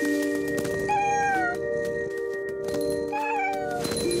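A cat meows twice in the video game What Remains of Edith Finch, with two drawn-out, rising and falling tonal meows that sound clear and fairly loud over a steady droning game soundtrack.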